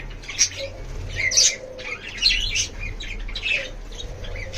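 A pet bird chirps in short bright bursts at a steady, repeated pace, close and clear over a low background hum.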